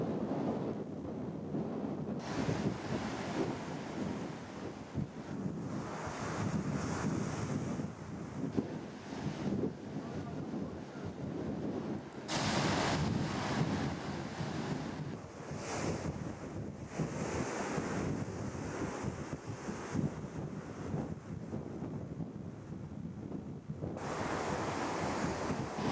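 Ocean surf and strong wind buffet the microphone at the shore, a loud continuous roar with surging swells and no voices.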